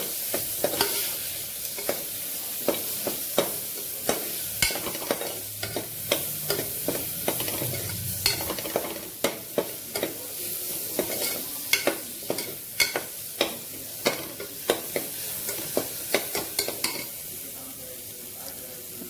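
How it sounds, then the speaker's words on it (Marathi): Coriander-cumin powder, chili and kala masala sauté in a pan for dal khichdi, with a steady low sizzle and repeated sharp scrapes and taps of a spoon stirring against the metal. "हे मसाले सगळे आपण परतून घेऊ मस्त"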